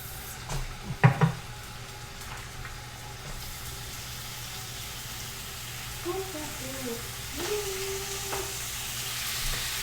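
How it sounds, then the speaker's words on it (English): Chicken sizzling steadily in a hot pan, a continuous crackling hiss with a few clatters of utensils and faint voices nearby. "Hear that sizzle?"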